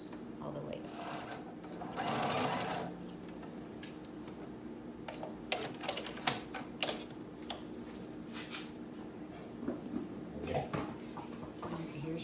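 Sewing machine running a long straight stitch on a seat cushion cover, with stitch length set to maximum; a steady mechanical whir with bursts and pauses in the stitching, close by, while a person talks over it.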